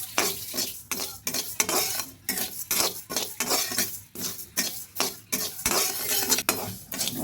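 Rice grains being stirred in a hot pan for a vegetarian cabbage dish, with repeated scraping strokes of a utensil against the metal, a light sizzle, and an uneven rhythm of loud sweeps and brief pauses, close up.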